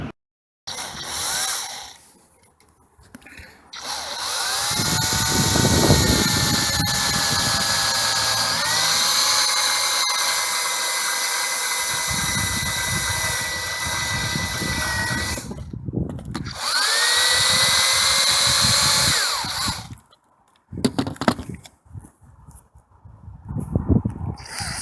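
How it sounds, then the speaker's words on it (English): A power drill bores a hole through the roof of a fairly new motorhome, running loud and steady for about fifteen seconds with pitch shifts as the bit bites, then stopping, followed by a short burst and scattered handling knocks. "it seems a bit daunting drilling through a fairly reasonably new motorhome roof"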